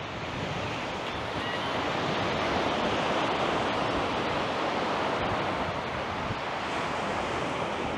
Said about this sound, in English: Here's the beach.